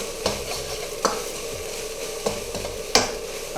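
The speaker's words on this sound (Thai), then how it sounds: "แล้วก็จะคั่วนิดหน่อยนะครับ พยายามบี้ข้าวให้มันเป็นเม็ดนะครับ" Rice with pork cracklings stir-fried and toasted in a hot pan, a steady sizzle broken by several sharp scrapes and clanks of the spatula against the pan, close and moderately loud with no talking.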